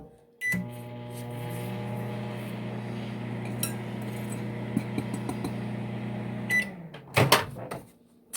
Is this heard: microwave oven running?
yes